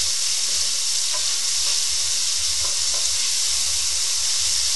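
Food fries in hot rice bran oil with a loud, steady, close sizzle and crackle that never lets up, while low thumps of stirring come through underneath.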